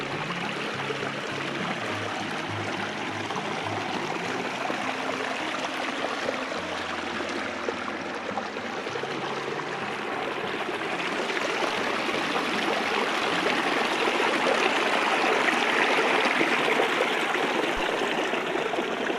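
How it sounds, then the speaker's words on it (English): Steady rushing and gurgling of creek water flowing over rocks near Dayton, Nevada, continuous and close, with no voices. "I can't believe how much water's already flowing down here."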